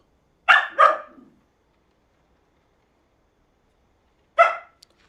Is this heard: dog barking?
yes